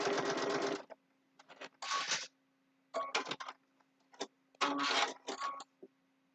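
A sewing machine stitching a quilted Christmas table runner with red bobbin thread and white top thread, running in short bursts of rapid close mechanical whirring separated by brief pauses.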